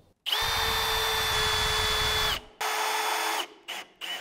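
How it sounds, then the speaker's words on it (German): A power drill drives screws into wood while building a hanging swing bed, a close whining motor run of about two seconds followed by a shorter burst and brief final blips. "Habe ich auf beiden Seiten gemacht und jetzt kann ich schrauben."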